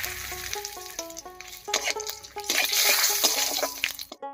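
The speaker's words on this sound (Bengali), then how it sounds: "এবার এই মাছ ভাজার তেলের মধ্যেই ফোড়ন দেব, আর ফোড়ন দেব হাফ চামচ গোটা জিরা আর একটা তেজপাতা দিয়ে" Half a spoon of whole cumin and a bay leaf sizzle in leftover fish-frying oil. A close crackle swells and then fades, with faint tonal clinks from utensils and no talk.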